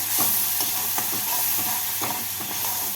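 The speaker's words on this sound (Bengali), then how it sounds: "মশলাটাকে একটু নাড়াচাড়া করে নিচ্ছি" A spice paste thinned with a little water is stirred in a frying pan, the steady sizzle broken by several scraping strokes of the spoon at an uneven pace, close and fairly loud with no voices.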